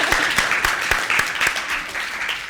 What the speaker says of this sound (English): give yourselves a round of high fives and applause